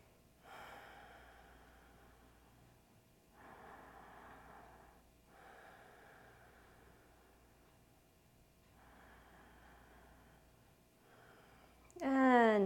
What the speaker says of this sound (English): Breathing into it.